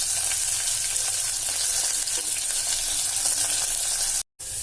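Chopped vegetables and curry leaves frying in oil for a vegetable pulao give a loud, dense, continuous sizzle close by, cutting off abruptly near the end.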